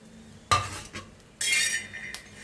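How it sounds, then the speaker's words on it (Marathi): Red chilies and garlic being stirred and dry-roasted in a pan for a rustic village-style thecha: a sharp metal scrape and clink, then a louder gritty rasping stir, close up with no talking. "सगळ्याला मिक्स करून भाजूया छान"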